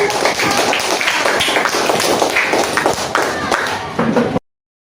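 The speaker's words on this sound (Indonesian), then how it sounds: "Tepuk tangan." A classroom full of people clapping together, dense and energetic applause that runs steadily for several seconds before stopping abruptly.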